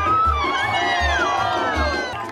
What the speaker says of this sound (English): We cheer for the teams of kids,